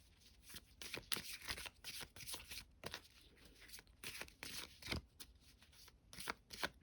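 Guardian angel cards are shuffled close by in quick bursts of soft riffling and slapping, the bursts uneven in rhythm with short gaps between them, quiet and without speech.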